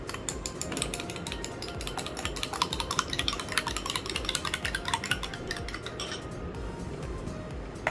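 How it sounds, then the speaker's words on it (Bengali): An egg is beaten for batter with quick, rapid clinks of a utensil against a bowl, a close and continuous rhythmic tapping with no talk. "আমি একটা ডিম ফেটে নিব ফার্স্টে"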